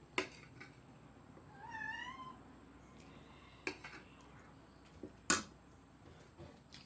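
A domestic cat gives a short rising and falling meow at close range, framed by a few sharp clicks and knocks nearby.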